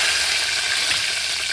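Bay leaf and cinnamon sautéing in oil and butter for shahi paneer, a continuous close, even sizzle with no voices.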